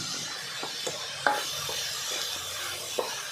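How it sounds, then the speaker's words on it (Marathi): A paan and coconut barfi mixture being stirred and sautéed in a pan, with a soft, steady sizzle under a few light spoon scrapes and taps against the pan, and no voices. "हे चांगलं परतून घ्यायचं आहे आता एक दहा मिनटं हे छान परतायचं आहे"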